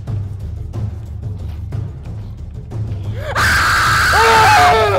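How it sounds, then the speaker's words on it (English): A man lets out a sudden loud war-cry scream during a game, preceded by rhythmic low thumping and breathy sounds, the shrill rising yell cutting in sharply and holding to the end. "What was that scream?"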